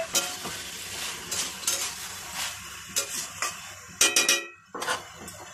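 Prawns and fried rohu fish head are dropped and stirred into a sizzling lau ghonto of bottle gourd, with sharp metal spoon scrapes and clatters against the pan over a low, steady frying hiss.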